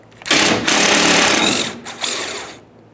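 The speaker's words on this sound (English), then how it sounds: "With a T45 Torx bit, remove both of these bolts." Power driver with a T45 Torx bit backing out tailgate latch bolts on a 2011-2018 Ram 2500, two loud close bursts of whirring rattle separated by a short pause.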